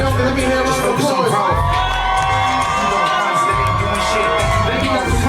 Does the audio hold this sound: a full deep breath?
no